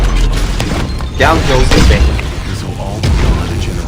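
Ion cannon launch explosion in the mobile battle arena game Vainglory, a heavy booming blast with a rumbling tail, heard under someone talking.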